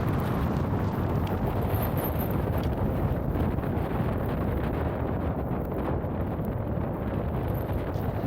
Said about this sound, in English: at this point the wind was really picking up and whipping across this ridge